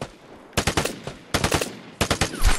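Gunfire from a PS4 video game, three separate quick bursts of several sharp shots each, loud and close, with no talk.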